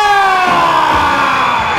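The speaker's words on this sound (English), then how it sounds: "The crowd is going wild." A boxing arena crowd roars and whoops loudly as the Silver Cruiserweight Champion enters the ring, a dense sustained wall of cheering with high shrill shouts layered on top.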